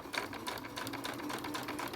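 A sewing machine runs steadily, stitching a seam on a small sequined bag for an 18-inch doll, its rapid needle chatter continuous and close throughout.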